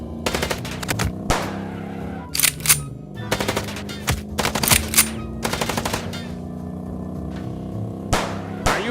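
Rapid gunfire in the Chicken Police video game during a car chase, loud machine-gun bursts repeating in clusters throughout with brief pauses between volleys.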